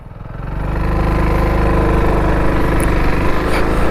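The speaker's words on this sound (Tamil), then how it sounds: "இதுதாங்க வண்டியோட எக்ஸாஸ்ட் நோட்டு." A 2020 TVS XL100 moped engine idles steadily up close, its loud, even exhaust putter holding a constant rhythm with no other sounds.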